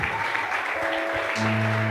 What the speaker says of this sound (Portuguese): Pode se assentar aplaudindo a Jesus bem forte